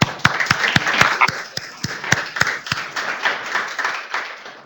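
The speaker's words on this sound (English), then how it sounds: "I think we should give you all an applause for the support." An audience at a Germany–U.S. exchange event applauds with distinct, fairly close hand claps, a moderate, uneven patter from a small group lasting a few seconds.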